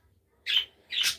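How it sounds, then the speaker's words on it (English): Pet birds squawk and chirp in two short bright bursts from somewhere in the background of an indoor room, with no talking over them. "If you hear a noise in the background,"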